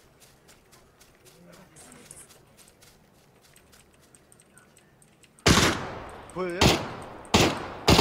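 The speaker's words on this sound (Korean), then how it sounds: "지금 쏘고 있어요." Loud bursts of gunfire from the battle royale game PUBG, a long roaring volley followed by two more sharp bursts, coming after a stretch of quiet background chatter and footsteps; a voice speaks briefly.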